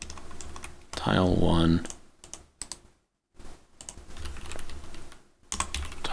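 Clicking of computer keyboard typing, quick irregular keystrokes close to the microphone while a person talks about building a 3D checkers game in Godot.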